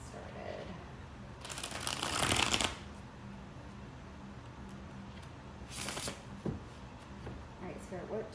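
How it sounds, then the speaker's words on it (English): Tarot cards are riffle-shuffled at close range in a quiet room, one long papery burst of about a second, a shorter burst a few seconds later, then a few soft taps and card handling sounds. "One more shuffle and then we'll get started."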